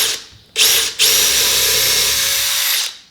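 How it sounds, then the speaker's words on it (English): A power drill bores into wood for a kitchen toe kick in a tiny house, drilling halfway and pulling out, whirring loud and close in a short burst, pausing, then a longer steady run before spinning down. "You may notice when I'm drilling that I'm only drilling halfway, pulling out and then going back in."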